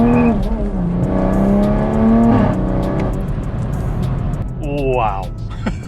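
A Toyota Supra, tuned with Bootmod3 on E30 fuel, roars on a dyno under ongoing talk, its engine note climbing in a quick rising rev near the end.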